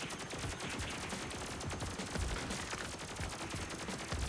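Continuous gunfire from an indie-style space shooter game, a dense, even stream of rapid shots running loud and unbroken from start to finish.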